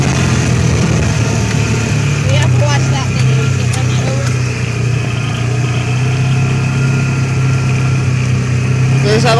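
A Ford Ranger fitted with a new fuel pump idles steadily, its engine hum close and constant while people talk over it.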